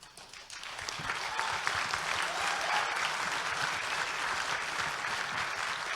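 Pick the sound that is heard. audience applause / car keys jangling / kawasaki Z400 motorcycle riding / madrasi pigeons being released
audience applause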